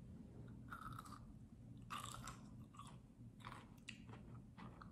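Crisp crunching and chewing of light pink dragon-fruit-flavored kohakuto crystal candy, several bursts of bites over a few seconds, close and alone with no talking.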